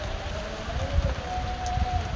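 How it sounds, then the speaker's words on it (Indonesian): Light drizzle falls steadily at a seaside fishing spot, a soft continuous patter of drops on surfaces with faint low rumble beneath and a thin tonal whine drifting in the background. "Masih nunggu hujan dari tadi nih, masih gerimis"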